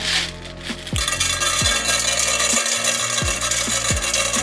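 Popcorn kernels sprinkled by hand into a cooking pot to cover its bottom, giving a steady close rattling hiss with several quick sliding chirps scattered through it, and no talking.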